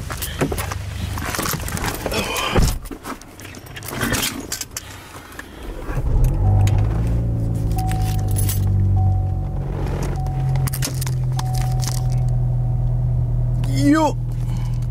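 A car engine idles and then pulls the car away, a low rumble that rises at about six seconds and holds steady, with scattered handling noises before it, a brief squeal near the end and people talking over it.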